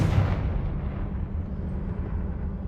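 Confringo, an explosive fire spell cast in the Hogwarts Legacy video game, lands as a loud, booming blast with a crackling burst at the start, then a long, heavy low rumble that rolls on and slowly fades, with no voices.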